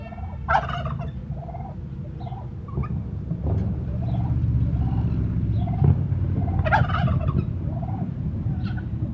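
Turkey gobbling in a yard while chasing a dog, several loud rattling gobbles spaced apart over a low outdoor rumble, with no talk.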